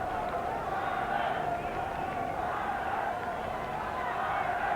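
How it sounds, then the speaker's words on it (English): A dense stadium crowd at a 1986 International Rules Test between Australia and Ireland keeps up a steady, loud roar as a chant for Ireland rises through the stands, sustained without a break. "A chant for Ireland going up through the crowd."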